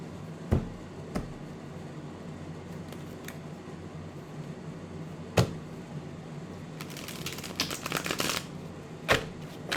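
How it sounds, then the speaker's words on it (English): A tarot card deck riffles and shuffles in a quiet room, with a few sharp taps and a longer flurry of flicking near the end. "this deck is shuffling a lot easier"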